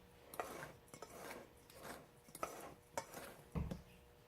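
A utensil scrapes and clinks in a bowl as banana bread batter is stirred. The strokes come in a quiet, uneven rhythm with a sharper knock near the end, and nobody speaks.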